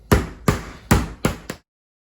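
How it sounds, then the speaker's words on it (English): Chicken breast pounded flat to even thickness, five firm dull thuds in a slowing rhythm, close and loud, then silence. "You start with the fatter end, thicker end, and then just gently pound it into uniformity."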